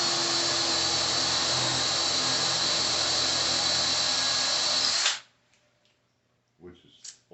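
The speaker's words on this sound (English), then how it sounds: "I'm only drilling holes that are about an inch deep" Power drill boring inch-deep holes into a thick bar, a loud steady whine lasting about five seconds before stopping abruptly, followed by faint clicks and handling noises.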